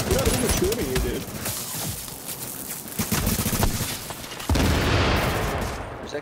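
Rapid bursts of gunfire from the Urban MDR rifle in The Division crackle close and loud over game noise. Several volleys come in quick succession, and a voice is heard between them.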